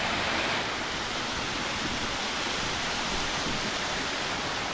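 Water from a remote forest waterfall pours down from a height in a dense, constant roar, close and loud with no other sounds.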